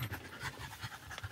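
A French Bulldog pants in quick, rhythmic breaths close to the microphone, steady and slightly raspy through the short stretch, with no talking.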